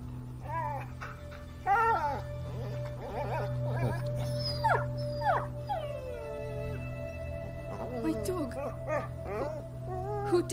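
A dog in the video game A Plague Tale whimpers and yips in a string of high, wavering cries over a steady low hum, with voices talking at times.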